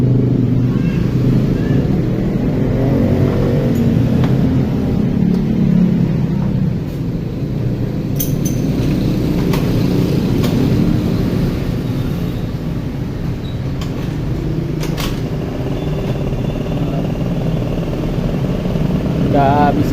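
A motorcycle engine converted from petrol to gas runs at a steady idle, a continuous low rumble close by with a few clinks and handling noises over it.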